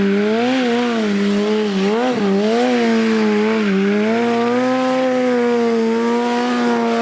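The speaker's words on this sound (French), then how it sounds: "faire des burns en avançant, des burns en allant à gauche, à droite, en se dirigeant et en avançant, tout en faisant toujours patiner la roue arrière" A motorcycle does a burnout while rolling and steering left and right, its rear wheel spinning; a loud, close engine drones and wavers in pitch over a hissing tyre-scrub noise, continuous throughout.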